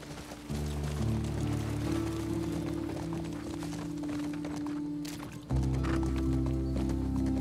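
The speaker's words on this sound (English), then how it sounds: "You riding on a horse in some grass." Horse hooves clop steadily on grass in the video game The Last of Us Part II, over a low, droning musical background, the rhythm continuing throughout.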